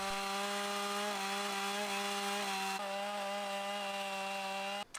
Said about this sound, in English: using a chainsaw to cut grooves into the stumps